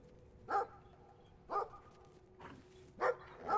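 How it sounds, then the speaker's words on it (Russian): A dog in the video game Brothers: A Tale of Two Sons barks four times in short, evenly spaced bursts, moderately faint against quiet game ambience with no talking. "Собака."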